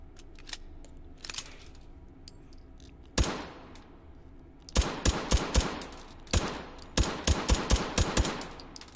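A suppressed Mk 22 Mod 0 Hushpuppy pistol fires in H3VR, sharp muted shots arriving singly, then in quick strings of several, with faint mechanical clicks in the gaps.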